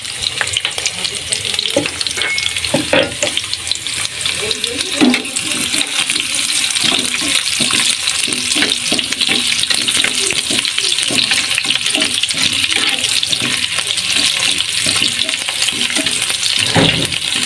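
Black cumin seeds, dried and green chillies and chopped onion fry in hot oil in a pan, giving a loud, continuous close sizzle with occasional stirring scrapes and no talk.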